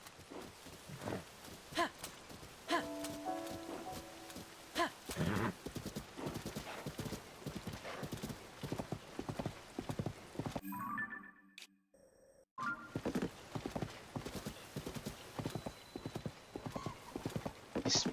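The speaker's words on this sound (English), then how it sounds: "Let's back on the horse and follow the road." Horse hooves clip-clopping at a gallop along a post road in Zelda: Tears of the Kingdom, a steady rhythmic beat with a brief whinny and a short quiet gap midway, over faint game music.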